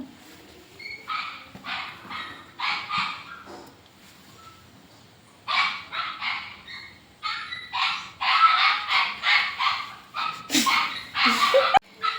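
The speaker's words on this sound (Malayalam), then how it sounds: "പട്ടി നന്നെ കൊരയ്ക്കുന്നുണ്ട്" A dog barks and yips in repeated bursts, some whimpering among them, with quiet gaps between volleys and louder, denser barking toward the end, heard in a home kitchen.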